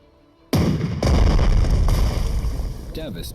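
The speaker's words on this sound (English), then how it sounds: "The explosions are pretty good." After a brief quiet moment, a sudden loud boom erupts from explosions in the strategy game Strategic Mind: The Pacific, followed by a second blast and a long rumbling roar that fades slowly, with a faint voice near the end.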